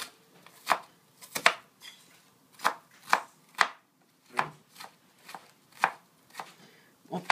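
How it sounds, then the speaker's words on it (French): An onion is finely chopped with a knife on a board, a series of crisp, close knocks in an uneven rhythm, about a dozen distinct strikes with quiet gaps between them. "On fait la même chose avec l'oignon. On va hacher finement."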